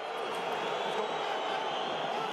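A home rugby crowd at a Perpignan vs Toulouse Top 14 match gives off a low, steady roar in the distance, with a commentator's voice over it.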